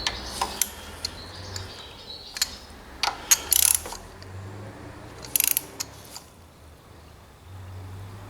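A ratchet clicks in short, close bursts while backing out a front brake caliper bolt on a 2017 Suzuki V-Strom 1000, separated by quiet pauses; no talking.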